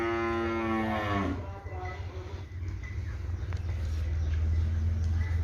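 Heifers on a cattle farm in Burewala, Frisian, Brahman and Cholistani, give a long, loud moo near the start, followed by steady low farm rumble and lighter animal noises.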